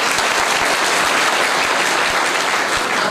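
A crowd claps during a darshan gathering, a dense, loud, steady roar of many hands sounding alone without pause.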